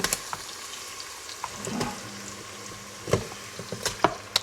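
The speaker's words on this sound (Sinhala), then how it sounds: "දැන් මේක හොඳට බැදීගෙන එන්නේ. මම මේකට chicken ටික එකතු කරගන්නවා." Chicken fries in a multi cooker for one-pot rice, with soft sizzling under scattered sharp knocks and scrapes of stirring, close and fairly quiet.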